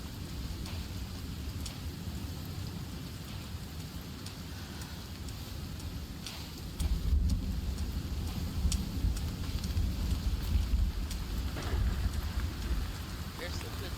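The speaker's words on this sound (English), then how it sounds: "There's some good thunder." Rain falling with rumbling thunder in the survival video game Sons of the Forest, a steady wash of rain with deep low rumbles swelling louder in the second half, continuous throughout.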